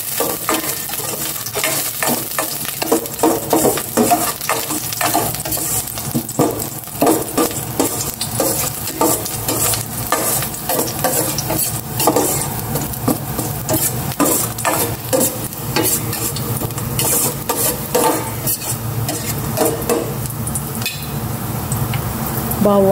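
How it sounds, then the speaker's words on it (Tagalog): Ginger sautéing in cooking oil, a continuous loud sizzle broken by frequent scraping and stirring strokes of a utensil against the pan, close up and busy from start to finish. "Ayan, gisa ko na itong luya muna."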